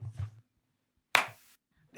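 A single sharp hand clap rings out alone and fairly close, preceded by a brief murmur of low voice and followed by near silence.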